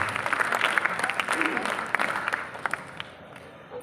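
An audience claps at a school annual prize-giving ceremony. The applause is a dense, moderately distant patter that thins out toward the end, with a voice speaking over it.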